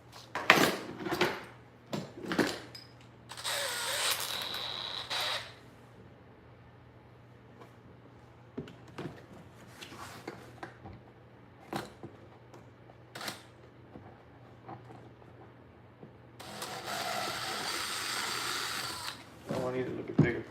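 A drill bit bores into a kayak in two loud whirring bursts separated by quieter clicks, taps and handling noises, close to the listener in an indoor workspace.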